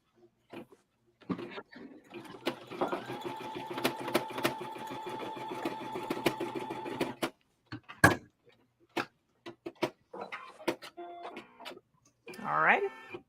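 A Ricoma EM-1010 embroidery machine stitching an in-the-hoop bag pouch runs in a steady, rapid mechanical patter for several seconds, then stops, followed by scattered clicks and handling noises.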